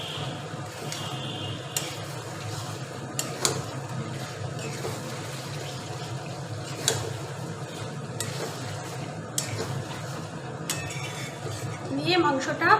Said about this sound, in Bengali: এবার এর মধ্যে আলুগুলো দিয়ে দিই।